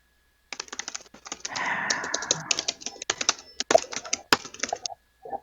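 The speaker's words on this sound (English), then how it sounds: "We don't have dead air. We have angry typing." Rapid, forceful typing on a computer keyboard, dense bursts of clacking keystrokes with a few harder key strikes standing out, close and alone.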